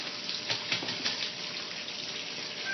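Tap water running steadily into a sink or tub, filling for washing cloth diapers, a soft continuous splashing stream with a few small gurgles, fairly quiet and close.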